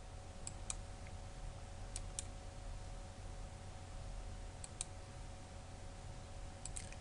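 Computer mouse clicked while working in a C++ form designer, a few faint sharp clicks, some in quick pairs, spaced over a steady background hiss with no talking.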